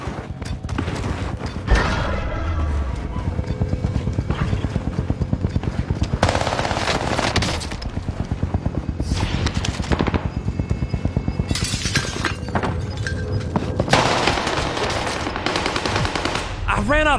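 Rapid automatic gunfire from a battle royale shooter game with a gas-closing safe zone, nearly continuous bursts and single shots over about seventeen seconds, loud and dense with game effects and faint talk mixed in.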